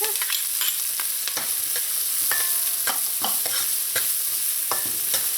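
Garlic and browning onions sauté in a pan over medium heat, giving a steady sizzle broken by repeated scraping stirs of a utensil, close and fairly loud with no talking.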